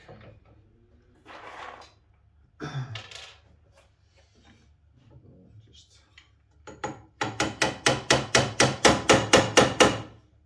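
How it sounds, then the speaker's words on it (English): A few scattered knocks and shuffles, then a rapid run of about a dozen sharp taps of a small wooden hammer driving glued wooden dowels, quick, even rhythm, close up. "I'm using this small wooden hammer"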